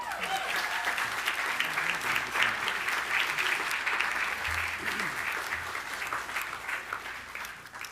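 Steady applause from the audience at a graduate school recognition ceremony after a dissertation title is read. Many hands clap continuously for several seconds, fairly distant in a large hall, tapering slightly at the end.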